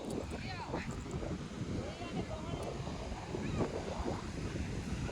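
Sea waves wash onto the shore under blustery wind, a continuous rushing surf with gusts buffeting the microphone, and a few voices are faintly audible in the background.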